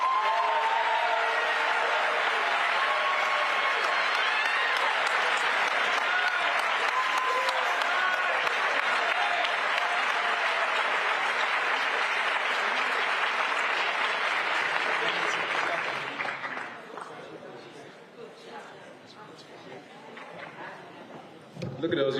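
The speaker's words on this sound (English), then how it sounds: "Give another round of applause" Sustained applause from a crowd at a high school welcome event, loud and even for about fifteen seconds before fading to scattered claps and quiet room noise.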